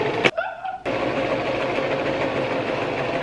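A sewing machine stitching a skirt hums steadily and loudly for most of the moment after a brief pause and a short higher-pitched whirr.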